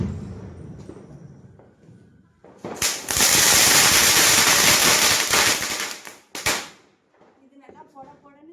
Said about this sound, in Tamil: லக்ஷ்மி வெடியை வெடிக்க போறேன்